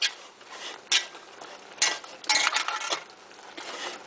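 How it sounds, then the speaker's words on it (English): A spoon stirs meatballs and soup in a pot with scraping and clinking strokes in a few irregular bursts, close and moderately loud, with no talk. "Now here we are going to stir again"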